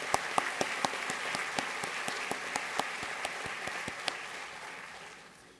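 An awards ceremony audience applauds the year's award nominees: a broad crowd clapping with distinct, regularly spaced sharp claps near the front, holding steady and then fading gently toward the end.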